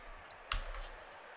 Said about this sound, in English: It's weird hearing the actual dice again after just seeing it on a board.